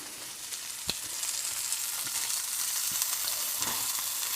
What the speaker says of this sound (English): Can you hear the sizzle sizzle?